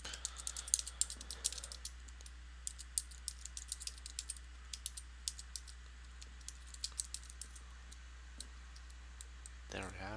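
Keys clatter on a computer keyboard in a quiet room, a steady stream of fast, light clicks close by, with a brief short voice near the end.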